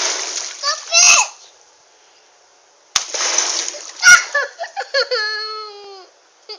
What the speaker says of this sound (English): Can I splash you again?